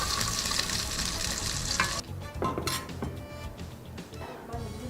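Meatballs fry in a pan with a loud, continuous sizzle and crackle, while a utensil clinks and scrapes against the pan close by.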